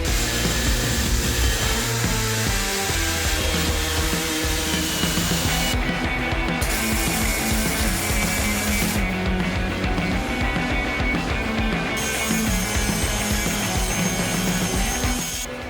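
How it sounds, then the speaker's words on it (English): A power tool grinds a steel bashplate for a Honda CR-V RD1 in a long, loud, continuous harsh whine that wavers slightly in pitch, with no one talking. "I would like to grind this side"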